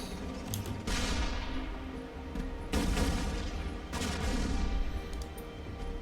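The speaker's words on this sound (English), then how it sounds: "next weapon is many minions. Let's shoot this guy." Many Minions weapon fired in the artillery game ShellShock Live: a rapid burst of small explosive pops, then several louder booming blasts around the middle and end, close and dense with no voices.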